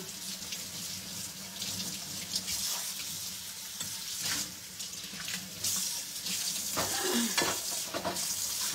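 Tap water runs steadily into a household sink while dishes are washed, a continuous hiss and splash with occasional clinks of dishware.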